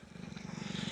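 A motorbike engine picked up outdoors by a DJI Mic 2 wireless microphone with noise cancellation on, a steady, fairly quiet pulsing idle with a faint wind hiss over it.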